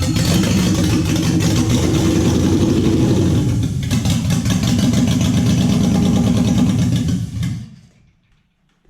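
A Toyota 1UZ-FE V8 from a UCF20, mid-swap into a Daimler and long left sitting, runs with no petrol in it, a loud close rumbling idle with a rise in revs, then cuts out and falls quiet.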